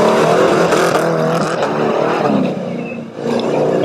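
An amphibious Sherp vehicle with four-wheel drive steering revs hard while spinning in tight circles, a loud close engine roar that dips briefly and then climbs again.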